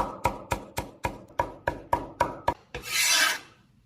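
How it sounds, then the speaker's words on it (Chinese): Knife mincing coriander on a wooden cutting board, about ten sharp evenly spaced chops close by, ending in a short scraping sweep. "香菜切成末"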